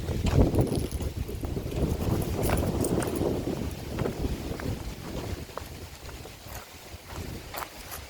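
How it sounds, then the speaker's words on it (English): Strong wind outdoors buffets the microphone with continuous gusty rumble and roar, loud at first and easing slightly toward the end, with faint knocking sounds underneath. "Wow, it's so windy"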